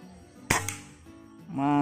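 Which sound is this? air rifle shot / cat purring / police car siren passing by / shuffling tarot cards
air rifle shot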